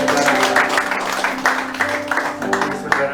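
Loud, close applause and clapping from a church congregation at a Sunday service, a dense rippling burst of hands lasting a few seconds.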